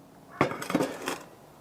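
A thick-walled 5-litre stainless steel pot, a former pressure cooker, is handled, giving a few soft metallic clanks and knocks in close succession, fairly quiet.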